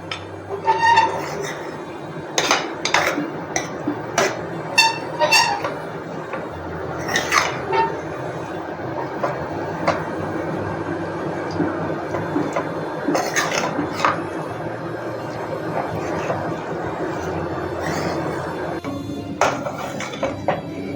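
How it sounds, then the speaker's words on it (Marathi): A spoon or ladle stirs jaggery into cooked lentils for puranpoli filling in a pot over a low gas flame, giving repeated close metal clinks and scrapes with softer stirring between them, with no talking. "हा गूळ आपण मिक्स करून घेऊया डाळीमध्ये."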